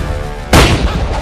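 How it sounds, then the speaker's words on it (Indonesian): Cannon fire from a ship in an animated adventure film: a single sudden loud boom that follows a brief tonal passage, then a rumbling decay, with no voices. "Beta bisa mendengar ledakan meriam lagi."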